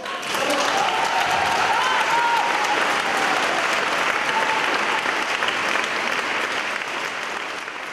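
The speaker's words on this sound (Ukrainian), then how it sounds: "Після кожного номеру лунали крики «Браво» і шквал овацій." A concert audience at a choral music festival applauds steadily after a choir performance, a dense, loud, sustained wash of clapping that carries on for the whole stretch.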